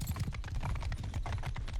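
Hooves from mounted troops in Mount & Blade II: Bannerlord beat in a steady, dense clip-clop as the cavalry rides, a continuous rhythmic drumming with no voices over it.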